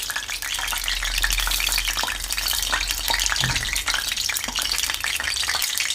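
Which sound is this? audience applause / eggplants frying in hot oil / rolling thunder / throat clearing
eggplants frying in hot oil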